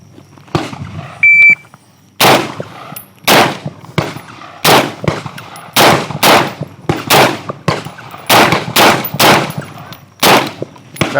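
Rapid gunfire rings out during a timed shooting challenge run, about a dozen sharp, loud reports in irregular bursts with brief pauses between strings, preceded by a short electronic start-timer beep.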